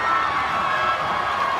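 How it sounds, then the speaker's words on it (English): At a FIRST robotics district event in St. Joseph, the crowd roars and cheers in a loud, unbroken wall of noise during the finals, with shouting voices blended into the din. "The crowd noise being so loud you can't even hear the buzzer."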